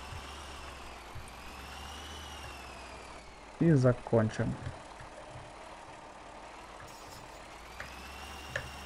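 Tractor engines in the Farming Simulator 2015 video game, two machines working a potato field, drone at a steady low idle-like hum throughout, briefly under a short burst of talk.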